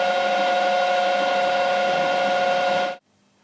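Lathe facing a Stirling engine part, a steady high-pitched whine with bright metallic tones that holds evenly for three seconds and then cuts off abruptly, leaving faint low hum.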